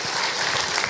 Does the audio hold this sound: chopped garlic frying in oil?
no